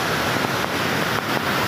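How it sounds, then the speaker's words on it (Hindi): Water pours over a dam in a dense, constant roar, heard loud and near with a few faint knocks, and no one speaks. "काफ़ी पानी गिर रहा है"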